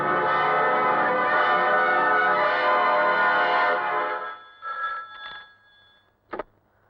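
An old-style telephone bell rings loudly in a sustained metallic trill in a 90s Bollywood film scene, then stops abruptly and leaves only brief rattles and a short clack.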